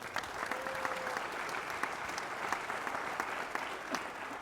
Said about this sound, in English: How about another round of applause for Gary's?